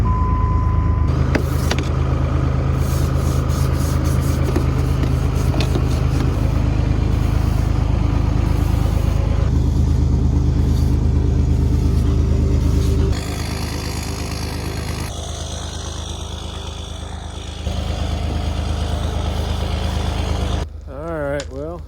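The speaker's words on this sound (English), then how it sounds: "Got the old plow truck warming up." An old Dodge plow truck warming up during a heavy snowstorm, its engine holding a loud, steady, close rumble that drops slightly in level partway through and then carries on.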